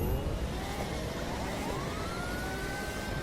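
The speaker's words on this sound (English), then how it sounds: "Let's start the engine, turn the sirens on," A police car siren wails in the driving game The Crew 2, its rising and falling tones sweeping continuously over a steady roar of engine and road noise for a few seconds.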